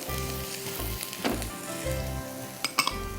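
Green chillies dropped into a pan of sautéed onion and garlic, sizzling steadily and close up, with a few sharp clinks of a utensil against the pan near the end; no talking.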